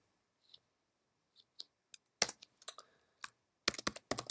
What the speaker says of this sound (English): let's type in some more functions.